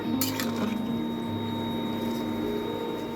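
Finely shredded cabbage with salt being turned in a pan, a few sharp metallic spoon clinks at the start and then a soft steady background hum, close by.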